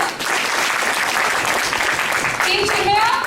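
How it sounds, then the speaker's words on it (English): A crowd claps for two training teams in a round of applause, dense and steady throughout, with a voice briefly heard near the end. "Can we hear a round of applause for each of you?"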